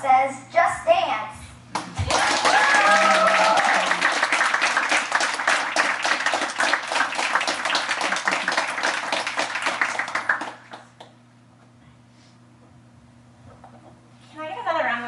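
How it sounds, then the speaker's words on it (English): Applause from an audience at a university dance marathon planning meeting: after brief talk, a roomful of people bursts into clapping for about eight seconds before it fades into a quiet room and speech resumes. "Can I get another round of applause?"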